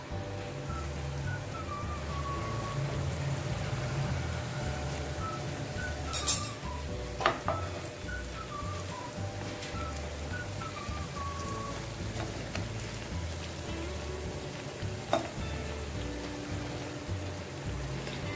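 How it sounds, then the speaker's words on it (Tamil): Small pieces of bread frying in hot oil in a pan make a steady, moderate sizzle throughout, broken by a few light clinks of a utensil against the pan. "இப்போ நம்ம இந்த பிரெட் எல்லாம் ஃப்ரை பண்ணி எடுத்துக்கலாம்."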